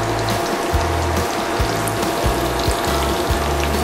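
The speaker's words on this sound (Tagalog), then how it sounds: "At ngayon, ibabrush na natin siya sa ating pork loin." Mustard glaze brushed onto a pork loin in a hot pan: a steady, close sizzle with soft, regular low strokes recurring about every two-thirds of a second.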